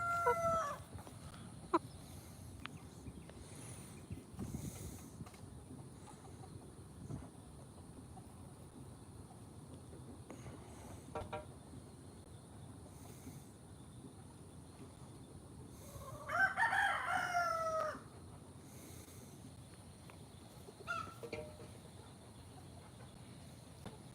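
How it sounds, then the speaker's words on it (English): A domesticated house chicken on a rare fruit farm crows once at middle distance against a quiet outdoor background, with a few faint clucks scattered before and after. "This is a house chicken."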